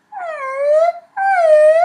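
A human voice imitates a whining puppy with two drawn-out, high nasal whimpers, each falling slightly in pitch, close and clear with a short gap between them.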